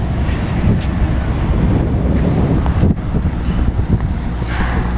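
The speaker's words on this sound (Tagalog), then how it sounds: "Lakas ng ulan." Heavy rain and gusting wind batter an open outdoor spot aboard or beside a passenger ship, a steady dense roar of rain and wind buffeting close to the microphone throughout.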